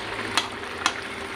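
Green taro stem frying in a pan with a soft, steady sizzle, broken by two brief scraping stirs of the spoon.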